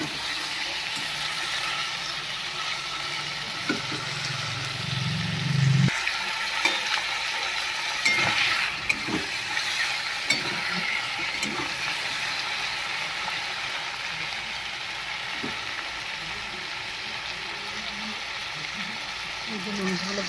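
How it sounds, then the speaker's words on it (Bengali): Chicken pieces fry in a pan with onion, garlic, ginger, cumin, coriander, salt and turmeric, giving a continuous close sizzle broken by occasional scraping stirs over about twenty seconds. "এই যে মাংসগুলো ভাজা হয়ে গেছে"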